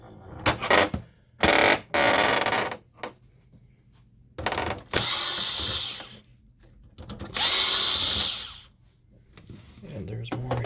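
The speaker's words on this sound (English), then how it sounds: "we're going to remove all the screws that are around here" Several bursts from a power drill backing screws out of an HP Photosmart 6520 printer during disassembly, the longer runs near and loud, separated by pauses and short handling knocks.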